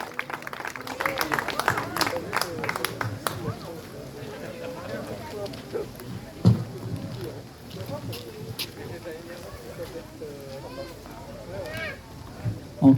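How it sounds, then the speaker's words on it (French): An audience at a koi show prize ceremony applauds briefly for an absent winner, a short burst of clapping that fades within a few seconds, followed by scattered voices and murmuring in the hall. "Bon, applaudissez Michel quand même"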